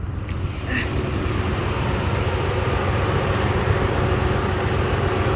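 The engine of a 1997 Toyota Camry idles with the hood open, a steady low rumble with an even, continuous drone and a faint click near the start.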